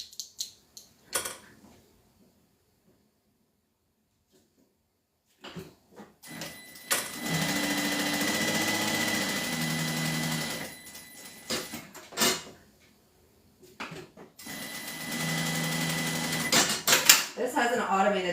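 Sewing machine stitching across a quilted bag in two long steady runs of fast mechanical whirring, with short clicks and handling noises between them and someone speaking briefly.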